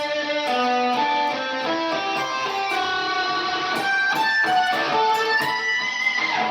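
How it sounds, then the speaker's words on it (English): Electric guitar played through a Fender Trapper octave fuzz pedal, sustained fuzzy chords and notes with a faint high octave shimmer, loud and steady, no voices. "I add in this Fender Trapper, which kind of makes the tone sound like this."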